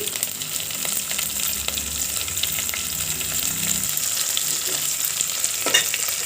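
Curry leaves fry in hot oil in a pan for Andhra-style bitter gourd curry, a steady close crackling sizzle with faint scraping stirs, continuous throughout.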